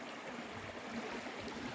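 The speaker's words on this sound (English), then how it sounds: "we're next to a creek" A creek runs beside a campsite with a steady, soft wash of flowing water, low and continuous, with faint gurgles and no voices.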